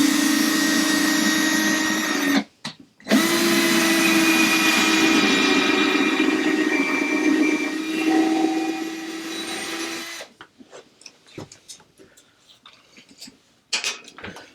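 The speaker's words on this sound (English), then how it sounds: "I'm going to drill 2 pilot holes on either side." A drill bores two pilot holes through scrap wood while a scrap-bin organizer is assembled. Two sustained, loud whirring runs are split by a short pause, then scattered clicks and handling knocks follow.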